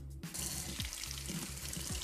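Water streams steadily from a KOHLER Konnect smart faucet at a sink for handwashing, a soft continuous splash with small gurgling changes, fairly faint and with no talking.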